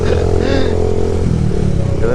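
A Rouser 180 motorcycle engine roars steadily while riding in third gear, a loud continuous low drone with wind noise, close and constant throughout.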